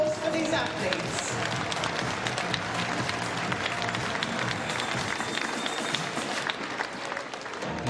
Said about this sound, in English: Ladies and gentlemen, another round of applause for these athletes.